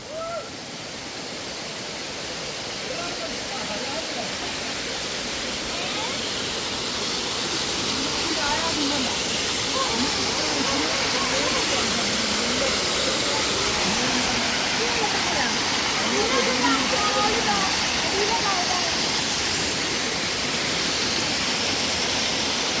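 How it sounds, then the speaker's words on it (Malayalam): A waterfall rushes into a pond during rain, a dense, steady roar that slowly swells louder, with voices talking and calling over the torrent. "ഇതിന്റെ അടിക്കൊക്കെ ഉണ്ട് ഒരു വെള്ളച്ചാട്ടത്തൊക്കെ വന്നിട്ടുണ്ട്"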